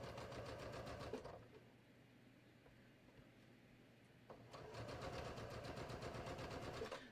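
A domestic sewing machine runs steadily, stitching long, large stitches through stretchy fabric near an armhole. It stops for a few seconds, then resumes its fast, even mechanical whir, close and clear with no talking.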